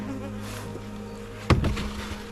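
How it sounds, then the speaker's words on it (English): Honeybees buzz steadily from an opened hive during a November inspection, a continuous insect drone close by, with a sudden louder knock of equipment partway through. "Look at all these bees."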